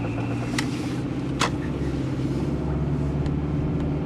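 A car cruising around the block, its steady engine and road rumble running continuously from inside the cabin, with a couple of brief clicks and squeaks over the drone.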